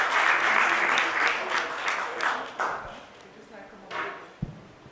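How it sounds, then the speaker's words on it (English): An audience at a supply chain summit applauds after a presentation, a dense burst of clapping that is loud at first, then thins out and fades with scattered claps and a few thumps. "Let's give him a huge round of applause."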